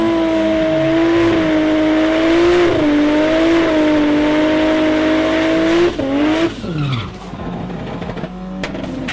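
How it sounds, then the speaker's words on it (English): Tuned race car from the Tuner Wars drag event at Tarlton Raceway, engine roaring loud and steady under hard acceleration for about six seconds, then pitch dropping and rising as it shifts and fades. "Tuned by Turbo Nos and sounding super sweet, Cowboy's first run was a 10 dead"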